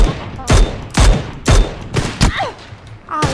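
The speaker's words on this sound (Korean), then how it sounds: "아, 이거 위에서 쏜다" Loud gunshots in PUBG, fired from above, crack out in a steady rhythm of about six sharp reports, with brief scattered game sounds between them and no talking.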